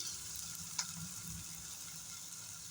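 Dal with turmeric powder and salt frying in a pan, a steady, fairly quiet sizzle with a soft stirring scrape and one small tap partway through.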